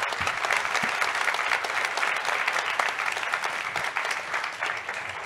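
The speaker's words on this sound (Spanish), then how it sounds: "les pido por favor un aplauso para, para nuestros invitados" A conference audience at a blockchain event in Bogotá breaks into sustained applause, a thick, continuous wash of many hands clapping, steady and fairly loud throughout.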